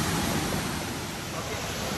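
Water rushing down a waterfall in Cameron Highlands, a steady close broadband roar that stays even and unbroken throughout.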